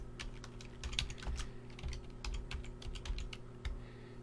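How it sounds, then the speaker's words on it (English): Comment being typed on a computer keyboard, a steady run of quick, light key clicks with irregular rhythm over a low electrical hum, close and fairly quiet. "So you would simply type in a comment."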